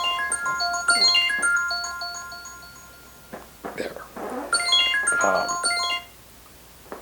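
A mobile phone ringtone plays loud and close, a bright looping melody that breaks off briefly and then repeats, with a short spoken word in between.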